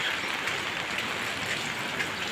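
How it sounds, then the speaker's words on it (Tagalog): Heavy typhoon rain falls in Cavite, a dense, even hiss of drops on surfaces that holds steady throughout, with no talk over it. "Sobrang lakas ng ulan."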